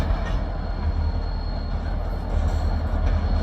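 A freight train shoved half a mile across Highway 141, its steady low rumble and rolling wheel noise continuous and fairly loud throughout, with no voices.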